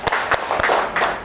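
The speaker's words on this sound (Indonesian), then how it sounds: "beri tepuk tangan dulu untuk kelompok 2." Applause for a student group in a classroom, with a few loud individual claps standing out over a short, fairly steady patter of hands.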